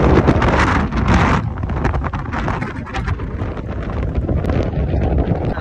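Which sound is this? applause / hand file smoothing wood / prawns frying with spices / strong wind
strong wind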